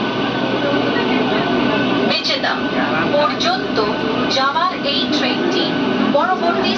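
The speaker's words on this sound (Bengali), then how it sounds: "এই মাত্রই দেখো 1 নম্বর প্ল্যাটফর্ম থেকে আমাদের ট্রেন কিন্তু ছাড়লো" Passenger train pulling out from platform 1 at Digha station, a continuous loud rolling rumble with squeals and clatter, people talking over it.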